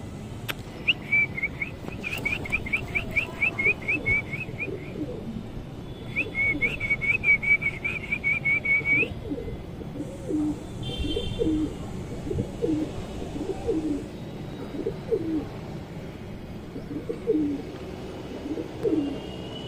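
Wild pigeons on a rooftop coo in low, repeated soft phrases while another bird trills rapid high whistles in bursts, all outdoors at moderate distance.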